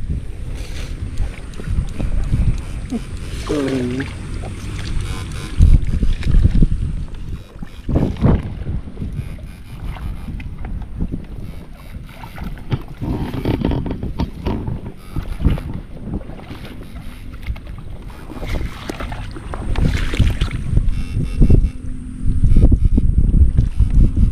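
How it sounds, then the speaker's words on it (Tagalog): Heavy wind buffets the microphone outdoors at an abandoned fishpond in gusty, rumbling bursts, with water and boat noises mixed in and no talking. "Ay, mahangin na naman po."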